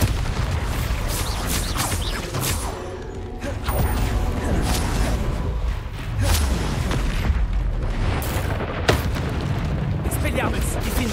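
The Bombarda explosion spell going off in the Hogwarts Legacy video game, with a dense, continuous roar of booming blasts, crackling debris and magical effects that stay loud throughout. A sharp burst lands near the end.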